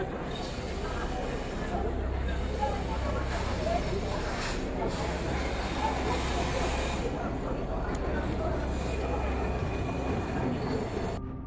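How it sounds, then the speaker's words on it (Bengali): A train arriving at Dhaka Airport railway station at night rumbles steadily with a deep low drone and hissing noise, a continuous heavy rail sound with occasional sharp bursts; voices blend in the din. "এইমাত্র অনেক সুন্দর একটি ট্রেন আসার দৃশ্য দেখলাম"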